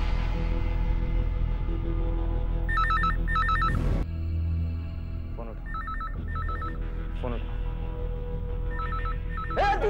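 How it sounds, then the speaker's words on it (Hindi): A telephone rings in repeated bursts of bright electronic trilling over a tense dramatic music score, with several rings spaced across the scene and a short swell in the middle. "चल फोन उठा, चल फोन उठा, चल चल चल उठ, फोन उठा"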